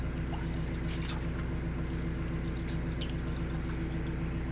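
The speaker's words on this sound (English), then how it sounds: "what I'm doing now, like I said, is draining the water tank." Steady low rumble of running water and a pump as a narrowboat's water tank drains, a continuous drone with no pauses and no voices.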